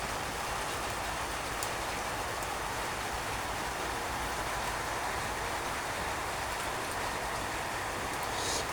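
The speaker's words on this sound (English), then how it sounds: "You hear this? It's raining." Rain falls steadily during a night thunderstorm in Australia, a close, even hiss with faint pattering drops throughout and no voices.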